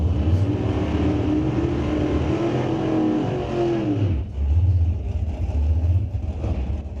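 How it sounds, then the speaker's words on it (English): Corvettes, including a 1963 Corvette roadster, roll into the burnout box at an NHRA drag racing event, engines rumbling and revving loudly with a dip and surge in the middle, close by with no talk. "Couple gorgeous Corvettes pulling into the burnout box right now"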